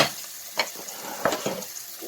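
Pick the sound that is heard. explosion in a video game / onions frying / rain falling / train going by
onions frying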